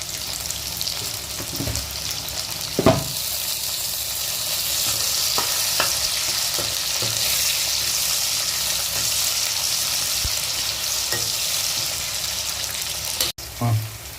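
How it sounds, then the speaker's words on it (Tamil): Sliced onions with a pinch of salt softening in hot oil in a pan, a continuous close sizzle broken by occasional spatula knocks and scrapes, with a brief clatter near the end. "இப்போ சிவந்து வந்து வெங்காயம் கொஞ்சம் நல்லா வதங்கிருச்சு"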